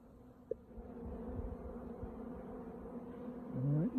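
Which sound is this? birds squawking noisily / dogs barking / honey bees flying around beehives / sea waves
honey bees flying around beehives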